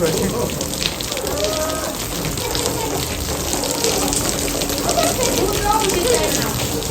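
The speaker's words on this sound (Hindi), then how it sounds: "हवा के साथ तेज बारिश है" Steady, dense heavy rain driven by wind pours down with a constant broadband hiss, splashing on surfaces close by, with indistinct voices faintly underneath.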